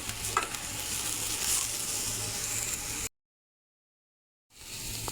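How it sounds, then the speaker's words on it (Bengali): Semai vermicelli with sugar gets stirred in a pan, a soft continuous scraping and sizzling that cuts out abruptly into silence and then resumes briefly. "আবার নাড়া দিয়ে নেব। সেমাইয়ের সঙ্গে চিনিটা মিশিয়ে নেব।"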